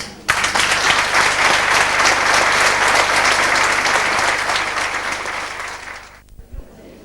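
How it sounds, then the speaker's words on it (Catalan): Loud, full audience applause at a regional gathering in Moià, continuous for several seconds before tapering off abruptly, with a brief low thump and faint voices at the end. "ara, tots plegats, sí que demanaríem un fort aplaudiment perquè ens ho mereixem"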